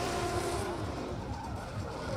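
A drift car launching off the line in qualifying at Oman International Drift, engine roaring hard with a continuous tire squeal over a steady wash of noise, loud and sustained throughout.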